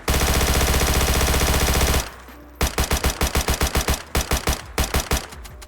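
A compact modded gun from the DayZ video game firing rapidly, first as a long continuous buzzing stream, then after a short pause as fast separate bursts of close, loud shots.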